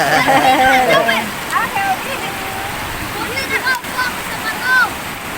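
Stream water flowing while kids bathe in a countryside stream, a continuous wash of water with splashing, and children's voices and chatter over it throughout.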